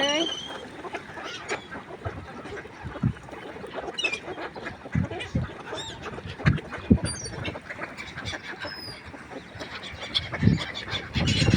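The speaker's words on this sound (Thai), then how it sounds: "ทั้งนก ทั้งเป็ดทั้งหงเลยทีนี้" Ducks quack and geese honk in a busy flock nearby, overlapping calls with people talking in the background.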